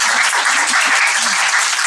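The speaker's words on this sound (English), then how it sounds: "So I think she deserves a round of applause for that." Steady, dense applause from a panel audience fills the room, continuous and even throughout with no voices standing out.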